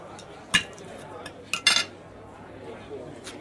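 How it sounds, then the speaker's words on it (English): Cutlery clacking against plates and dishes in a busy restaurant, a few sharp clinks scattered over a low ambient murmur of the dining room. "the scuffle and clack of her cutlery send out signals not difficult to interpret"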